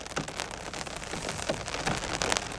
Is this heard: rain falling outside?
yes